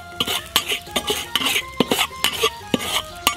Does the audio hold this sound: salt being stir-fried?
yes